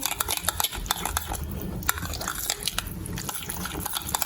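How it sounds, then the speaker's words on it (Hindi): Spice mix for mutton chops stirred with a whisk or spoon in a bowl, giving quick irregular clinks and scrapes throughout, close up. "मिक्स कर दें मसाले को।"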